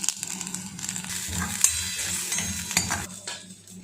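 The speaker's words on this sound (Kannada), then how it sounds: "ಇದಕ್ಕೆ ಸ್ವಲ್ಪ ಕರಿಬೇವು ಹಾಕ್ತಿದ್ದೀನಿ" Hot oil sizzles steadily in an AMC cookware pan as curry leaves are stirred in, with scraping and light clinks of a spoon against the metal.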